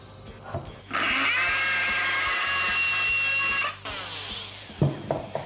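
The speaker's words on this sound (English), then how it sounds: "that's what the oscillating multi-tool can do. You could cut out pieces like that" An oscillating multi-tool cuts into wood, a steady, loud buzzing whine held for about three seconds, bracketed by quieter handling knocks and clatter before and after.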